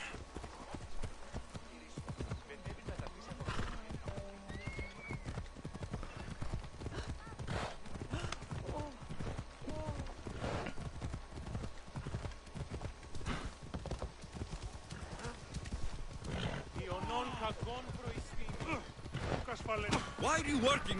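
Horse hooves clip-clop at a steady walking rhythm in Assassin's Creed Odyssey, with a neigh and soft gear and wind noise layered in, and a voice speaking at moments over the hoofbeats.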